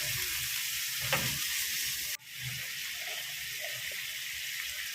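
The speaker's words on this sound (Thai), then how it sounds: "ใส่หมูลงไปเลยครับ ผัดหมูให้สุก" Pork stir-frying with holy basil and fried garlic in a pan, making a continuous close hiss and crackle with stirring scrapes, briefly cut by a sharp drop before the sizzle resumes slightly quieter.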